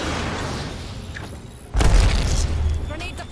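Horizon's singularity ultimate in Apex Legends sets off a sudden deep boom midway, following a stretch of quieter game noise and continuing as a heavy rumble, with a voice talking under it.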